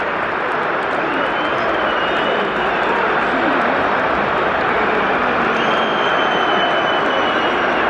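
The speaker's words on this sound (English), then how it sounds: "Dortmund fans are clapping it." Dortmund football fans in a packed stadium during a match against Rangers, a broad steady roar of crowd noise and clapping at high volume throughout, with a commentator talking over it.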